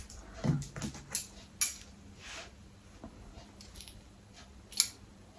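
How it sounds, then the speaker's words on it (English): Soft, quick snips of small scissors trimming a dog's fur, a few sharp clicks scattered among quiet rustling and handling noises. "So now this is where my little scissors come in."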